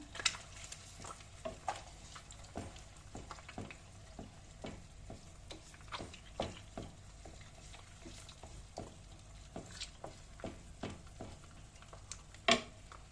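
Homemade organic eggs stirred in a frying pan, sharp scraping clicks of the utensil repeating irregularly over a soft steady sizzle, close and fairly quiet with no talk.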